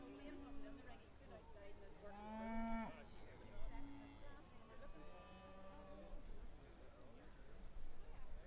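Cattle mooing at an agricultural show cattle ring, several drawn-out moos and bleat-like calls at moderate distance over a murmuring crowd and a faint background announcer.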